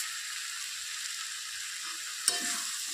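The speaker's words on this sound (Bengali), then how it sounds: "আবার একটু ভালো করে নেড়ে চেড়ে দিচ্ছি।" Cabbage curry with sugar cooks in a pan with a steady, even sizzle and hiss throughout, broken near the end by one brief scrape of a spoon stirring through it.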